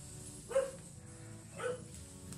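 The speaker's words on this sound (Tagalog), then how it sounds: "may mga kumakaw na aso" Two dog barks, about a second apart, heard at a moderate distance over a low background hum.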